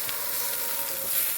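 Crushed shallots land in a pan of browning onions, giving a brief, soft, even hiss of sizzling oil close by.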